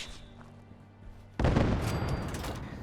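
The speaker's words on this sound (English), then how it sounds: "There's also a custom fireworks sound effect when you fire," The 'Merica Cannon rocket launcher firing in Fallout 4 with a custom fireworks effect: a single sudden loud blast followed by a crackling, sizzling burst with faint whistling tones, after a quiet humming stretch.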